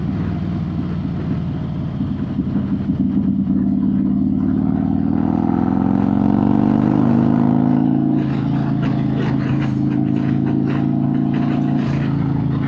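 A Harley-Davidson motorcycle engine fitted with a Tury throttle controller revs up steadily from idle, its deep rumble rising and then holding at a loud, continuous level close by, with no talk over it.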